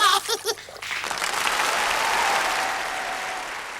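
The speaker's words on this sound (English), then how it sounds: "Mama and Papa joined in the enormous applause" Enormous applause from a concert audience in a hall, starting after a brief bit of voice and music, then a dense, steady wash of clapping that holds loud for several seconds before easing slightly.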